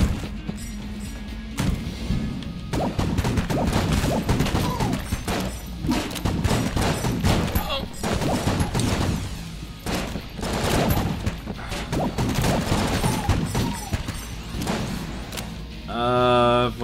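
Rapid bursts of weapon fire from the glacier gun in the video game Enter the Gungeon, rattling volleys and thuds amid chaotic game effects, with a player's voice talking over parts of it.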